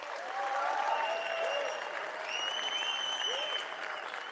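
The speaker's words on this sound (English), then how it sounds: "Let's give him claps." Stream audience applause, a steady wash of clapping sustained for about four seconds at moderate level, with no talk over it.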